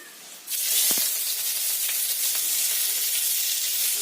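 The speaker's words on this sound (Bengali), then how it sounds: "তেলটা আমার গরম হয়ে গেছে এতে আমি দিয়ে দেব পেঁয়াজ কুচি" Chopped onion hits hot mustard oil in a pan for an omelette curry, bursting into a loud, steady sizzle after a short quieter start, with a few faint clinks of a utensil and no talking.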